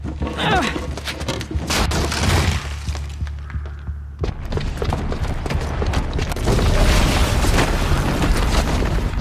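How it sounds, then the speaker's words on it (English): A booby-trapped bomb going off in Horizon Zero Dawn: a loud, dense run of booming, crashing and shattering blasts that keeps rumbling on for several seconds over a heavy low drone, swelling again near the end. "the booby trap on the bomb downstairs is gonna get set off"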